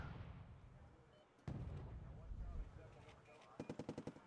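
Wargame: Red Dragon battle with a Challenger Marksman anti-air gun downing Mi-8 helicopters while mortar rounds land, giving a dense low rumble of impacts and a burst of rapid evenly spaced shots near the end.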